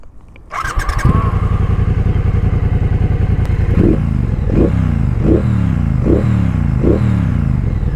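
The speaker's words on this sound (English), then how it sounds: "Let me turn on the engine." A Triumph Bonneville Bobber motorcycle engine cranks and catches, then settles into a loud, steady idle with a few rhythmic revs, close by with no talking.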